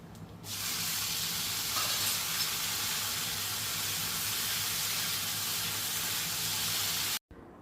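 Beans frying in mustard oil with cumin, two dried red chillies and turmeric give off a loud, steady hiss and sizzle that holds unbroken for about seven seconds before cutting off abruptly.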